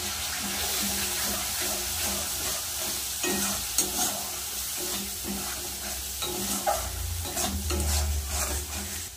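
Ground cumin, dried chili powder and turmeric are stirred in a frying pan, with a continuous sizzle under repeated scraping strokes of a spoon against the pan.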